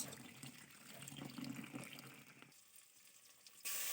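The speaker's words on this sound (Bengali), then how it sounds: "এই যে লাউগুলা কেটে নিয়েছি, এখন ভালো করে ধুয়ে নিব।" Water runs from a tap over cut bottle gourd pieces as they are rinsed in a sink, splashing unevenly and then easing off before a louder rush at the end.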